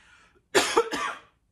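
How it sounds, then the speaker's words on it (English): Two sharp coughs in quick succession, close and fairly loud, after a faint murmur of background sound. "Sorry guys, I'm coughing."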